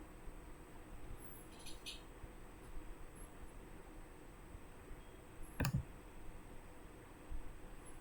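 A computer mouse gives a few sharp, isolated clicks while an attendance management application is operated, faint and close, separated by long pauses over a soft steady background hum, with no speech.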